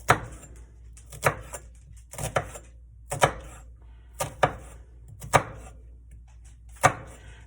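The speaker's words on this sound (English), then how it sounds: "all I'm gonna do is just slice my onion" Knife slicing an onion on a cutting board during meal prep for moose meat with gravy, seven sharp, evenly spaced chops at close range against a quiet background.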